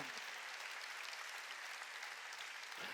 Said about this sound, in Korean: 빨리 박수.